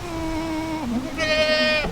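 Goats kept with livestock guardian dogs let out two bleats in quick succession, close and clear, the second higher and more strained, with no talk over them.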